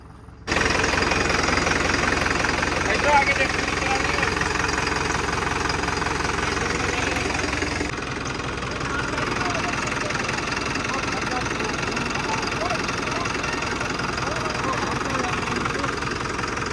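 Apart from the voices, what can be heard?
tractor engine running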